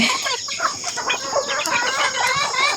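Several chickens on a free-range farm cluck and squawk busily up close as they eat bananas, with short overlapping calls and a steady high hiss in the background.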